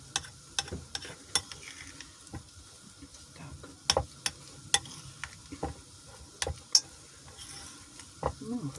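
A spoon stirs a grated potato pancake (deruny) mixture, with irregular sharp clinks against the bowl over a soft wet scraping.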